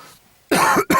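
Two loud, close coughs in quick succession after a brief quiet moment.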